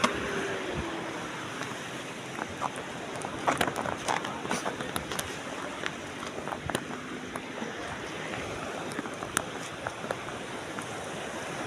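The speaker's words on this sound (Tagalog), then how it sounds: "So, malakas nga yung alon" Continuous rushing surf with strong waves breaking off Burias Island, a broad steady roar with bursts of louder crashing; no voices stand out.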